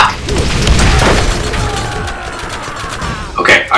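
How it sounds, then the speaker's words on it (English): Enemy gunfire in Borderlands: loud, booming bursts of shots and impacts crowd the opening seconds, ease into a lighter rattle, then a sharp pop lands near the end. "They're all shooting at me."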